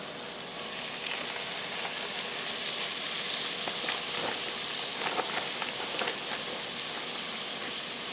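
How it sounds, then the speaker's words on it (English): Chicken tenders sizzle in preheated oil, a steady, close, crackling hiss with scattered pops that holds evenly throughout, with no talking. "then we're just going to put it in the preheated oil"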